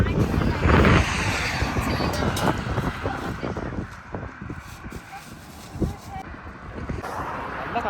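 Wind gusting outdoors at Khorfakkan, a steady rushing buffet against the microphone, louder in the first seconds and easing later, with someone speaking over it.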